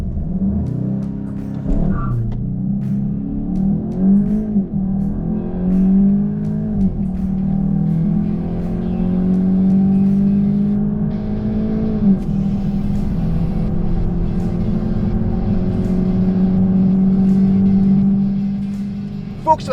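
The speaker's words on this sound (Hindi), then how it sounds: "इसमें लगा है एक 2 लीटर टर्बो पेट्रोल इंजन जो कि 265 हॉर्स पावर प्रोड्यूस करता है।" A Volkswagen Golf GTI with a 2-litre turbo petrol engine drives along, a steady loud engine hum with rising pitch sweeps as it accelerates and shifts, continuous throughout with some talk mixed in.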